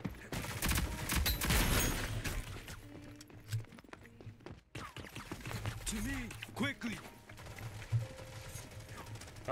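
Bursts of AK rifle fire crackle in the Rogue Company video game, rapid rattling volleys with mechanical clicks between them and game noise underneath.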